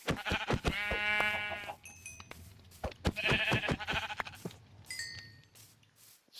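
Sheep in the video game Minecraft bleat in repeated, drawn-out calls, clear and close, with a few short game sound effects between them and no talking.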